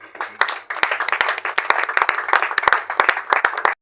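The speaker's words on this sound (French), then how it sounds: "On peut les acclamer." An audience claps steadily for a few seconds at an orphanage gathering, a dense patter of hands with sharp individual claps standing out, ending abruptly.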